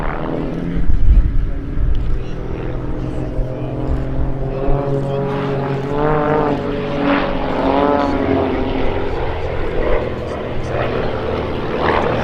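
Propeller aircraft flying in formation at the Duxford summer air show, a sustained droning engine roar rising and falling as the planes pass, with a commentator talking over it throughout.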